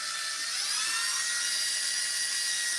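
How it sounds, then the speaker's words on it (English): A steady high-pitched whine of a flex shaft rotary drill running continuously at speed, loud and close, with no break. "I usually do it with my flex shaft, but you can use like a drill"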